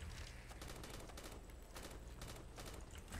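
Rapid gunfire from a Call of Duty custom zombies map, Ragnarok, fired at a boss zombie: a dense, sustained burst of shots running continuously at a fairly low, steady level.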